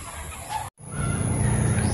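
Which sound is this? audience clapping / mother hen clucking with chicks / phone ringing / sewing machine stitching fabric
mother hen clucking with chicks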